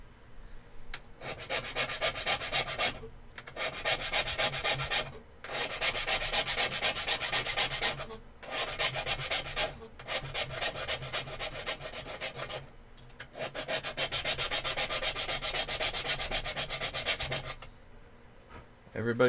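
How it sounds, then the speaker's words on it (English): Hand filing of cured epoxy putty on a scale model build, bursts of fast, steady rasping strokes lasting a few seconds each, separated by short pauses, close and moderately loud. "We can start hand filing the other stuff."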